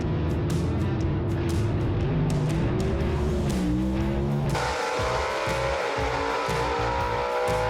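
Drag race run between a big-block 1958 Corvette and a slingshot dragster, loud roaring engines at full throttle with rising revs, then the note drops and fades as the cars pass and ease off.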